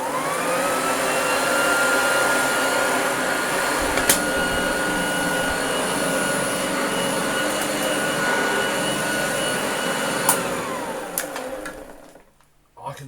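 An old upright Hoover vacuum cleaner with a badly worn motor spindle runs steadily up close, giving a loud whining motor drone with a high tonal whine, then spins down and cuts off near the end.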